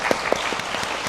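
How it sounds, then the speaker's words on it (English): An audience at an energy and climate week opening ceremony claps for a panel, a short burst of close, dense applause with a few sharper individual claps standing out. "a round of applause for our panelists."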